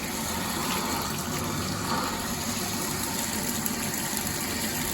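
Water runs steadily from a newly replaced shower valve into a tub, a continuous broadband rush close by with no pauses.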